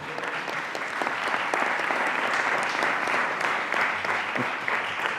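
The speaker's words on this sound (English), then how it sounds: "Let's give the dogs a hand of applause, sir." An audience at a TSA oversight hearing on airport perimeter security applauds a dog demonstration with steady, sustained clapping from many hands throughout.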